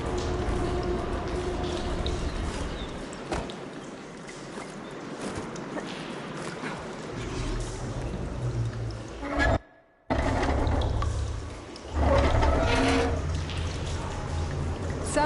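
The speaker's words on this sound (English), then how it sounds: "Aloy, I can hear water in the room again." Water surges through pipes after a valve is opened in Horizon Forbidden West, a continuous broad gurgling rush with a brief dropout near the end before the flow resumes, louder and fuller.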